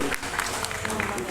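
Audience applause at a Balinese storytelling event in Sangeh village, Badung, a short burst of clapping mixed with a talking voice over it.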